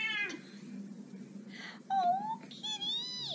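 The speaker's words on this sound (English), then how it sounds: "Oh, kitty! Meow." A cat meows several times, drawn-out, wavering cries that rise and fall, close by over a faint low background hum.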